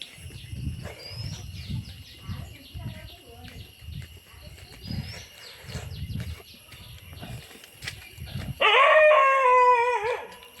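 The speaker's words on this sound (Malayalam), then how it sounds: "നായ്ക്കളൊക്കെ ഉണ്ട് കേട്ടോ കര കര സൗണ്ടൊക്കെ ഉണ്ട്" Dogs howling in the distance, drawn-out cries repeating under steady talking, with birds chirping, then a loud bird call near the end.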